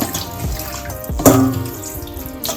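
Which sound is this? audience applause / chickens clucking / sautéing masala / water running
water running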